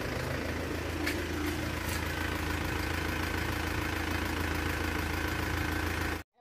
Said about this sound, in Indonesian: ini kita mau coba mesin Panther dari Jakarta